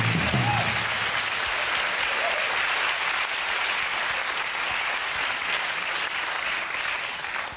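A studio audience at the Harald Schmidt Show claps in loud, sustained, dense applause that fades slightly, with a brief voice near the start.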